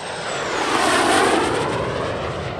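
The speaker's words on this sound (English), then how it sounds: "the PZL Milik SB-Lim 2, a Polish two-seat training aircraft made by modifying single-seat MiG-15s" A PZL Mielec SB-Lim 2, a Polish two-seat jet trainer converted from single-seat MiG-15s to MiG-15 UTI standard, passes at a vintage warbird airshow with a loud, steady, broadband jet roar that swells slightly and holds. No voices.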